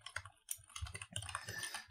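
Rapid, close keystrokes on a computer keyboard while code is typed, an irregular burst of clicks and taps running continuously for about two seconds with no talk.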